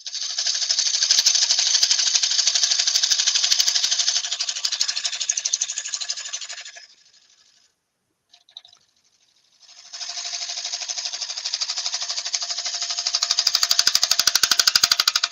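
A woodturning gouge cuts a yew dish spinning on a lathe, making a bright, continuous rasping chatter. The cut stops for a couple of seconds in the middle, then starts again and grows louder toward the end.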